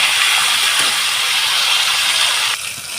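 Rohu fish head frying in hot oil for a spicy curry, giving a loud, steady broadband hiss and crackle that holds throughout and drops slightly near the end.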